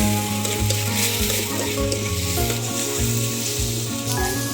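Cumin powder and spices sizzle loudly in a hot pan while being stirred, a constant frying hiss with irregular scraping stir strokes, with a steady hum running underneath.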